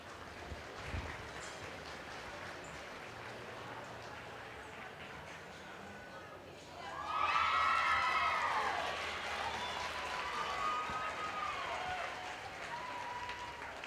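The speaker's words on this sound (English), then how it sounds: "Give them all a nice round of applause." Audience applause at a market steer show and showmanship event, a broad wash of clapping that swells partway through and holds steady at moderate volume, with a faint voice underneath early on.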